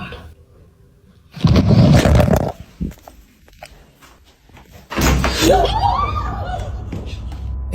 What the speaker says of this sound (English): someone seems to turn the doorknob and yank the door